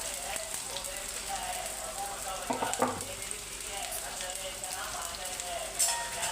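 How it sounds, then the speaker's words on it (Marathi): A few sliced onions sizzle and crackle in hot oil in a home kitchen, a steady hiss with occasional pops and stirring, a voice faintly present underneath. "ही 2-4 कांदे मी टाकते बघा ह्याच्यात तेलात"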